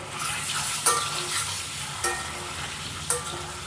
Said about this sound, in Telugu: ఇప్పుడు ఎగ్స్ వేసుకున్నాం కదండి వీటిని కలుపుకుంటూ ఒక నిమిషం పాటు ఫ్రై చేసుకుందామండి